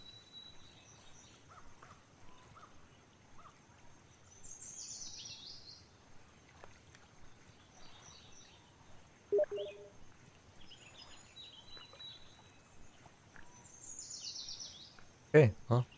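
Scattered bird chirps and short calls in a lakeside fishing scene of Fisher Online's 1000 Islands area, faint and distant over quiet ambience, with a sharp click near the end.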